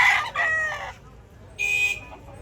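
A rooster at a chicken market expo in Carbon Public Market crows twice, loud and close, each call a drawn-out strained cry separated by a short pause, with faint crowd murmur behind.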